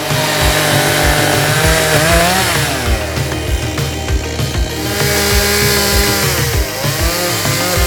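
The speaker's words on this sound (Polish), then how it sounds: "W międzyczasie zmieniłam piłę na spalinową" A petrol chainsaw roars loudly and continuously up close, its engine pitch dipping and rising as it bites into a tree trunk.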